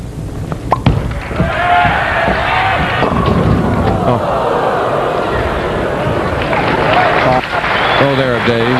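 Crowd at a 1995 Tournament of Champions bowling event applauding a bowler, sustained loud clapping and cheering, with a commentator talking over it.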